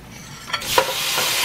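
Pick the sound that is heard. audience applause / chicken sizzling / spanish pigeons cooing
chicken sizzling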